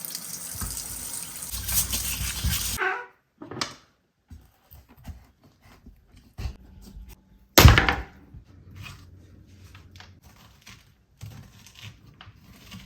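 A whole pumpkin rinsed under a running kitchen tap: a loud gush of water for a few seconds, then quieter splashes, handling knocks and a brief second burst of flow.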